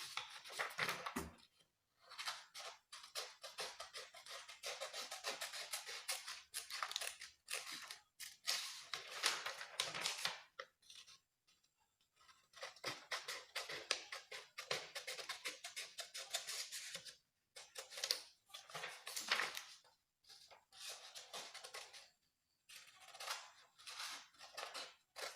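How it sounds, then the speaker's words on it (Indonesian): Scissors snip through a paper worksheet in repeated bursts of crisp cutting, with short pauses between runs of quick blade strokes, close and moderately loud, with no talking. "langkah pertama kita gunting dulu ya teman-teman"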